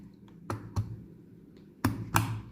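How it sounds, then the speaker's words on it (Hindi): A RAM module snaps into the third motherboard slot of a budget gaming PC, giving a few sharp, close plastic clicks in two pairs as the latch locks. "ये क्लिक साउंड आपको आई होगी,"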